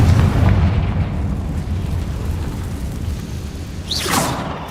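A Confringo spell explosion in the Hogwarts Legacy video game, a heavy low boom with a rumbling tail that fades over several seconds, then a sharp whooshing burst near the end.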